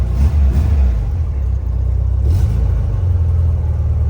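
An old, long-abandoned Volkswagen Beetle engine runs with a low, loud, steady rumble, swelling briefly as the throttle rises and then settling into an even idle.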